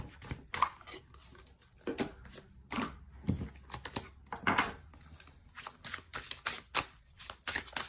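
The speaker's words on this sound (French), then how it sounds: "On va tirer une carte... hop." Tarot cards being shuffled and one drawn from the deck, a quiet close-up run of crisp flicks, snaps and light taps in an irregular rhythm, with no voice over it.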